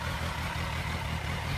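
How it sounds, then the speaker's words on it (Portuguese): A 2020 Kawasaki Versys 1000 motorcycle idles through a 4-into-1 Fariton header with the original tip and a silencer, making a constant low rumbling drone with no talk. "vou ligar aqui a moto para vocês ouvirem como fica o motor"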